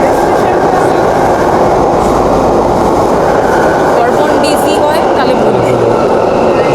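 A London Underground train in motion, heard from inside the carriage as a loud continuous roar and rumble with faint rail clatter and squeal, steady throughout.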